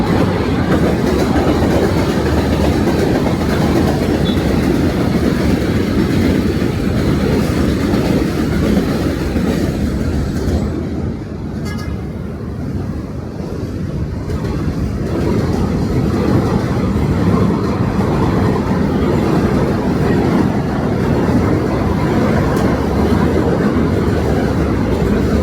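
A New York City subway train roars past on the elevated line at Roosevelt Avenue in Jackson Heights, Queens. The loud, continuous rumble and clickety-clack of the cars dip briefly midway, then the noise returns at full strength.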